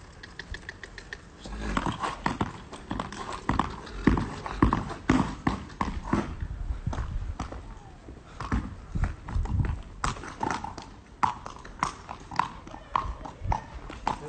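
A horse's hooves clip-clop in an uneven, rhythmic run of sharp knocks on a hard surface, close and clear, with a few brief pauses between bursts of steps.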